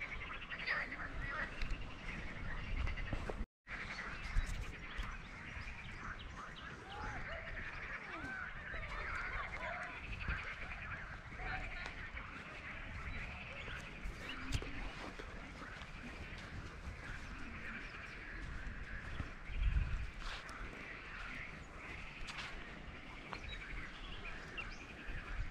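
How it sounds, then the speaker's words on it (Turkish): Wild birds call throughout Longoz Forest, a floodplain woodland near Karacabey, Bursa in Turkey, with a steady dense chorus of chirps and calls layered over continuous outdoor ambience, moderately loud and close, with no talking. "Kuşların sesine bakıyorum."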